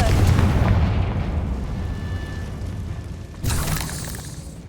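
Confringo blasting spell in Hogwarts Legacy goes off as a heavy, rumbling explosion that rolls on continuously, with a second sharp burst near the end, loud and close.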